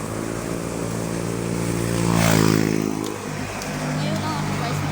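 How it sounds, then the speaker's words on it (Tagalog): Motorcycles passing along a road, a steady dense engine drone that swells to a louder pass in the middle and then settles back, with someone talking over it. "Ang daming mga motor."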